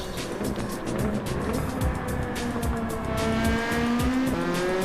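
Honda race car accelerating out of the final corner at Laguna Seca: a loud, rising engine howl with a steadily climbing pitch and some tire noise, no speech.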